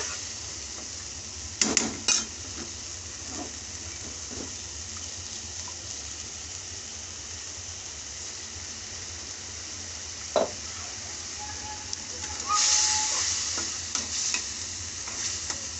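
Tomato and spices sauté in a pan for chickpea curry, giving a steady, moderate sizzle throughout. Occasional scraping stirs and knocks of a spoon against the pan sound close by, with one brief hissing flare near the end.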